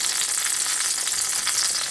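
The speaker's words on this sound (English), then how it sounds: "I have some oil getting hot there, as you can see" Oil sizzles and crackles steadily in a pan on the stove, a couple of tablespoons barely covering the bottom, as it heats for a homemade low-carb barbecue sauce; close and continuous with no talk.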